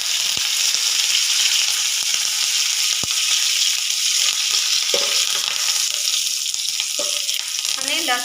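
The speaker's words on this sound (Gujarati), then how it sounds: "જીરું નાખી દઈએ। મીઠો લીમડો નાખી દઈએ।" Cumin seeds and curry leaves sizzling in hot oil in a pan, a loud continuous crackling hiss with a few sharp pops, close up and without any voices.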